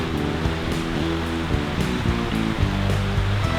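A pretty little creek flows along a bike trail in the Ohiopyle area, a steady close babble and rush of water with no voices.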